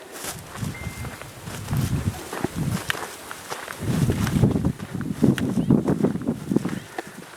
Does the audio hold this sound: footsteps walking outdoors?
yes